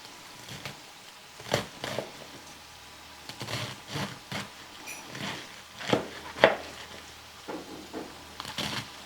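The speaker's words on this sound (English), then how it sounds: "I'm dicing up the lettuce and the vegetables" Knife dicing lettuce and vegetables on a cutting board for a Big Mac salad, a quiet series of irregular chopping taps spaced across the clip with faint background noise and no talk.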